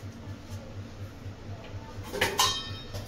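A metal lid set down on a pot of khichuri makes a sharp, close clink with a brief metallic ring, over a steady low kitchen hum.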